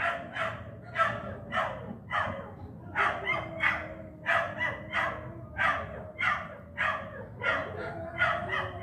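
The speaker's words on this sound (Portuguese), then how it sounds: "O cachorro do vizinho não dá paz." A dog barks repeatedly in a steady rhythm, about two barks a second, from some distance over low background noise.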